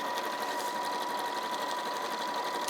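Sewing machine quilting a padded tote bag panel, a steady fast mechanical whirr with a fine needle-beat rhythm running continuously, close and fairly quiet.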